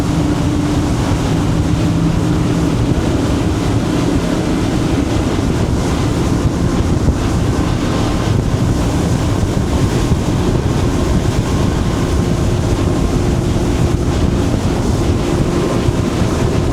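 A Scout 355 LXF boat with Mercury outboard engines runs on open water in the Florida Keys, its steady loud engine roar blending with wind buffeting and rushing water throughout.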